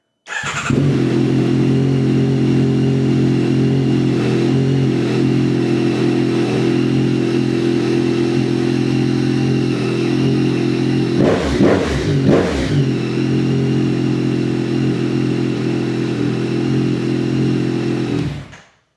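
A 2025 Yamaha MT-09 motorcycle fitted with a DNA Stage 2 air filter starts and idles with a loud, throaty, steady drone close by, and the engine revs in a few quick bursts partway through.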